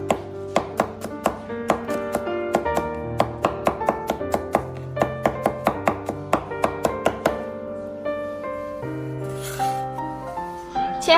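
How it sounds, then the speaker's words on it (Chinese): A knife mincing crushed garlic on a cutting board, with rapid, crisp, evenly spaced chops close by that slow near the end, set against soft background music and no talking. "拍碎之后，再改刀将大蒜切成蒜末"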